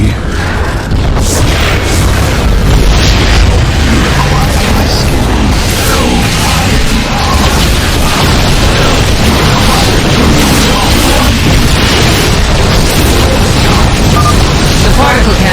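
Dense, loud barrage of booms and blasts as particle cannons are destroyed in StarCraft II: Legacy of the Void, continuous and heavy, with a voice talking over the chaos.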